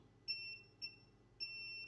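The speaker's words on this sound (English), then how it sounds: "we'll need to probe, so that should beep" Three short high-pitched tone beeps from a multimeter continuity probe tested across a FET on an ESC circuit board, steady and close, with a faint low hum beneath.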